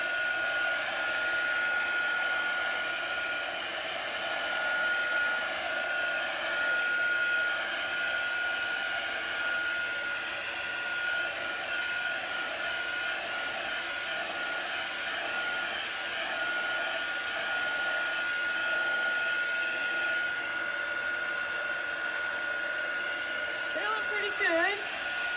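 A heat tool runs steadily and close by, drying chalk paste on a canvas, its even whirring blow lasting throughout with a brief change near the end.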